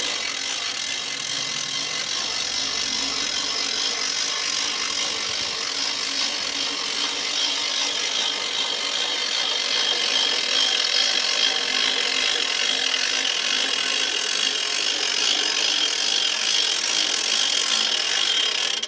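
A firewood processor's conveyor is cranked up, giving a continuous close mechanical grinding and rubbing drone that holds steady and grows slightly louder partway through.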